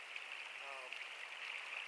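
A flowing creek runs as a steady, close hiss of rippling water, continuous and even throughout the short stretch with no other sounds standing out.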